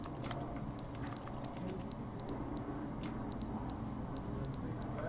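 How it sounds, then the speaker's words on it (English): In The Stanley Parable video game, an electronic alarm sounds a shrill, rapid beeping in repeated bursts of short pulses. It is loud and insistent against a low background hum. "Are you gonna make me like keep listening to the beeping?"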